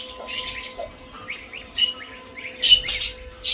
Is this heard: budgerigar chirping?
yes